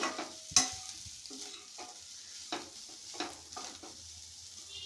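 Cauliflower pieces are stir-fried with chili powder, salt and spices in a pan, giving a soft steady sizzle broken by close scraping stirs and a few sharp clinks of the spatula against the metal.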